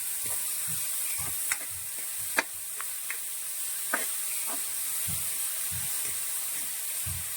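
Snake gourd and bitter gourd sautéing in a pan for a Kerala thoran, a soft sizzle under scattered spatula taps and scrapes, close but fairly quiet.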